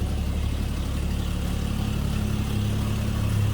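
A 1950 Chevrolet 3600 truck's inline-six engine idles steadily at close range, a low rumble even and unchanging with a smooth low drone.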